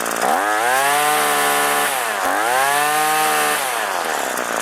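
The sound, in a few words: Hitachi/Tanaka CG22EAS string trimmer engine at full throttle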